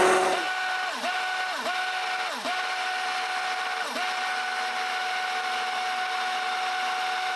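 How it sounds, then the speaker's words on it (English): Blender churning homemade lotion as xanthan gum is sprinkled in, a loud continuous motor whine close up with several brief dips in pitch as the load shifts. "just going to turn on our blender again and slowly sprinkle in the xanthan gum"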